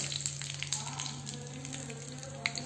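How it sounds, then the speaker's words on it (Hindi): Curry leaves sizzle quietly in hot oil for a tempering, a soft steady crackle with occasional sharper pops, close by and with no talking. "कड़ी पत्ता पा के तड़का साडा तैयार है।"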